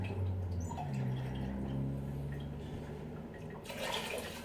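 Water pours steadily from a half cup into a measuring cup while curry carrot and apple soup is prepared in a kitchen, a soft continuous trickle close by with no talking.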